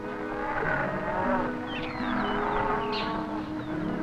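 Maasai cattle low and moo, several drawn-out calls overlapping one another against a busy outdoor background.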